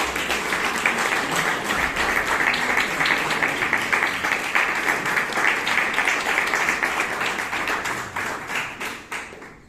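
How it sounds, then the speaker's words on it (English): Steady, dense applause from a crowd at a Toastmasters meeting in Bangalore, sustained at an even level for several seconds before tapering slightly at the end. "A round of applause for him."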